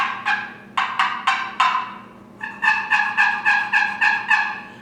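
A wooden box call yelps in short raspy bursts imitating a turkey: four spaced notes, a pause, then a quicker run of about seven, close and clear.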